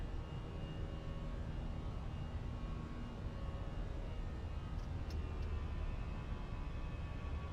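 A steady, broadband jet roar from Fenix A320 engines in a flight simulator, continuous and even with no clear change in level as the throttle comes back for climb, with a couple of faint clicks near the end.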